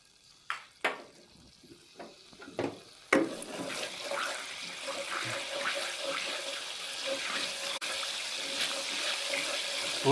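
Cumin seeds frying in hot oil with garlic in a pan, starting with a few separate crackles and pops, then from about three seconds a steady loud sizzle continuing to the end.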